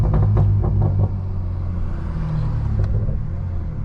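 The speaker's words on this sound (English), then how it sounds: "I turned the burbles up just a little bit, just to be kind of obnoxious" A stage 2 BMW M340i running rich, its engine and exhaust rumbling low and close with a quick run of sharp burbles and pops at the start, then a steady idle-like drone with one more crackle.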